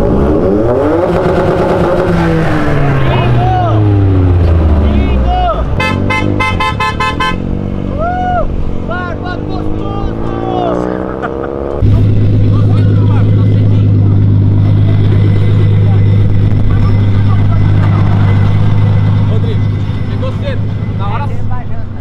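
A manual Corvette V8 revs loudly and roars beside a Nissan Silvia S15 on asphalt, the engine pitch climbing and falling with gear changes, and people talk and shout over it.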